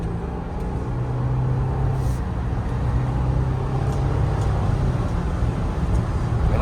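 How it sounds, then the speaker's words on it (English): Steady cabin rumble and wind noise around the roof of a 2022 Ford Bronco Black Diamond Sasquatch cruising at about 70 mph on half throttle, a continuous low broadband roar with no talking. "you hear the wind noise around that roof, that's for sure"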